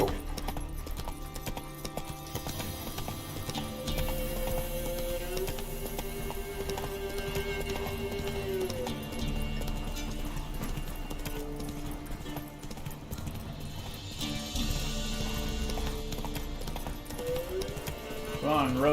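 Roach, a horse in The Witcher video game, galloping with steady clip-clop hoofbeats under dense game music and effects, while a voice talks over it.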